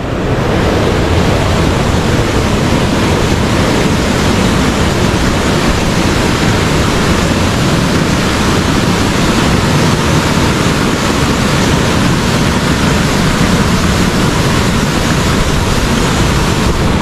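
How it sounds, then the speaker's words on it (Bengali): Phe Phe Falls in Meghalaya roars as a steady, loud, broadband rush of falling water, close and unbroken throughout, with a faint wind-like hiss and no talk. "দেখুন ওখান থেকে ঝর্ণাটা নিচে পড়ছে"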